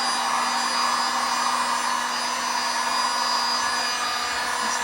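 Heat tool blowing hot air over freshly poured resin on a galaxy-effect clock to pop bubbles, giving a loud, continuous, even whoosh with a faint steady hum running through it, heard alone and close.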